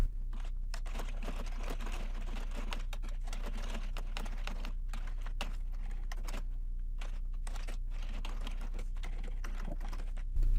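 Typing on a computer keyboard, a steady run of quick, soft key clicks with brief pauses, close but fairly quiet, with no talking.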